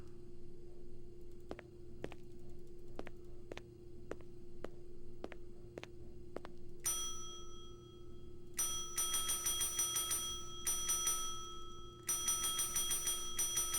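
A service bell in the Blade Runner video game is struck about eight times at an even pace over a steady hum, followed by sustained ringing metallic tones near the end.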